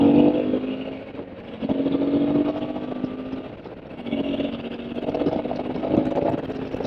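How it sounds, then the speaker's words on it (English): Motorcycle engine heard while riding, with a steady mid-pitched drone that rises and falls with throttle in waves, muffled and with wind rush. "His bike definitely pulls a lot more than mine."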